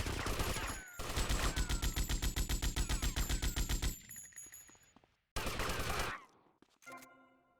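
Video game gunfire in GTA Vice City: a loud, rapid automatic burst rattles for about three seconds, fades off, then a second shorter burst follows and cuts out, ending in a brief ringing tone.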